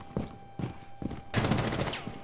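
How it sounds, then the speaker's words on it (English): Gunfire from the tactical shooter Rainbow Six Siege, a few sharp separate shots and then a dense burst of rapid firing, fairly close and loud, with faint game sounds between them. "Alright! Shooting!"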